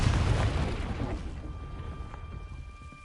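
A Confringo fire-blast spell goes off in Hogwarts Legacy, a heavy booming explosion that hits hard and then rumbles away over a few seconds.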